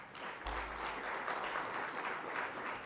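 Audience applause at a SADC regional conference on elections, celebrating Namibia's newly elected female president; steady, dense clapping from a crowd swells in after a brief pause and continues evenly throughout.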